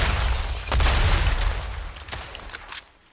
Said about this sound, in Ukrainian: А, стріляє, стріляє, де?